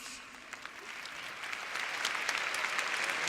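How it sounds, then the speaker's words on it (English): Conference audience at a large tech summit applauding, dense clapping from a big crowd that swells and grows louder over a few seconds, with scattered sharp individual claps standing out. "Let's clap it up for these pioneers."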